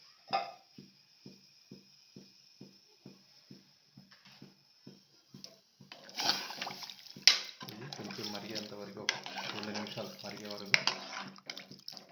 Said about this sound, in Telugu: ఒక రెండు గ్లాసుల వాటర్ వాటర్